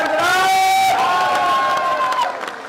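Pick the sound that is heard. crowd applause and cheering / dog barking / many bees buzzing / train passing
crowd applause and cheering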